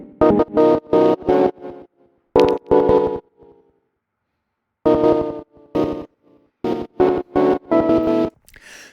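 Original unprocessed percussion samples for a beat with all effects bypassed, played as short, clean, rhythmic bursts separated by gaps and a longer silence in the middle, with no voices.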